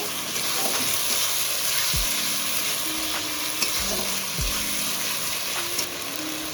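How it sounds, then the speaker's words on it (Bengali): Ginger-garlic paste sautéing in a pan with onions and fish for a chitol fish curry, a steady close sizzle with occasional scraping strokes of a spatula, no talk. "এর মধ্যে দিয়ে দেবো আদা রসুন বাটাটা। দিয়ে আবার একটু ভালো করে কষিয়ে নেব।"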